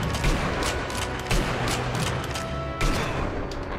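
Gunfire in the Sniper Elite V2 video game, several sharp shots cracking out at irregular intervals over a steady low battlefield rumble, a few sounding close and punchy with others softer in the background.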